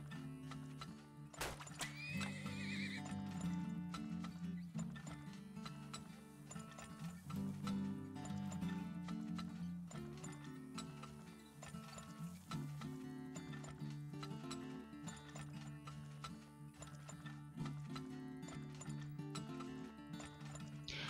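Horses neigh and whinny over steady clip-clop hooves and a continuous music bed in the video game Turmoil, loud and busy throughout.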